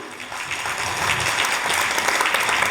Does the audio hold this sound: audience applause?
yes